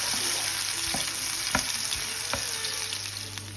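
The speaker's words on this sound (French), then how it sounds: "Là, je mets les oignons. Je vais les laisser faire." Onions fry in a very hot pan of oil with a bright continuous sizzle. A few light taps and scrapes of a utensil stand out sparsely, close and unaccompanied.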